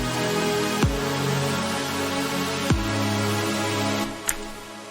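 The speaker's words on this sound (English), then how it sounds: "let me play it with the chords with the kick," Remix chords played together with a kick drum: a dense, sustained electronic pad fills the mix while deep kick hits thump every couple of seconds, loud and close with no speech.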